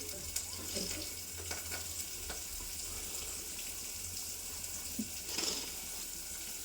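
Onions going into a frying pan with fenugreek leaves, tomato and moong dal, stirred in, giving a faint continuous sizzle and hiss with a few soft scraping strokes, fairly quiet and distant.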